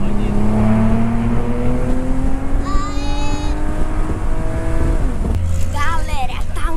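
A car engine revs and accelerates loudly and close at an event with super cars and racing simulators, its rising drone steady throughout with higher whining tones and brief squeals near the end.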